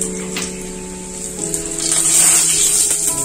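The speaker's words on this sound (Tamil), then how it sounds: "கடுகு பொரிஞ்சிச்சு" Mustard seeds and dried red chillies crackle and splutter in hot oil for a Kanyakumari-style tomato curry, a steady close sizzle with scattered sharp pops and no talking.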